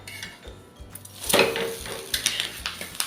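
Bhakri wrapped in banana leaf being flipped on a hot pan, heard as a few clanks and scrapes of utensil against metal, with one sharp louder knock in the middle and lighter clinks after it.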